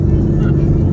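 An undercover Dodge Durango police car passes close by, giving a brief, steady low engine rumble.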